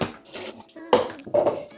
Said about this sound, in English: Pour in the last batch of fresh water.